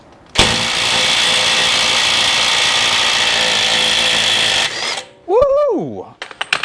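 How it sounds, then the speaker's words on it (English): A rattle gun (impact wrench) works a 36mm axle nut on a BMW E92 N54 335i, a loud, continuous hammering buzz held for about four seconds before stopping abruptly, followed by an exclamation. "so let's see how we go with the rattle gun"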